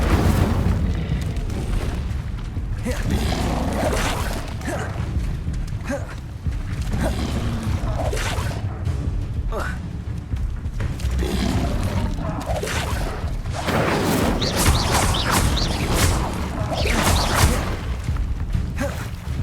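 Spell-casting fire blasts in the video game Hogwarts Legacy, heavy booming bursts repeating over a dense, continuous game soundscape with brief voice snippets.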